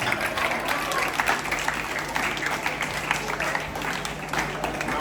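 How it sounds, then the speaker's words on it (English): Applause from an audience at a school ceremony, steady clapping from many hands that holds at an even level throughout, fairly close, with some talk underneath. "Let us all give a round of applause as a congratulations to their"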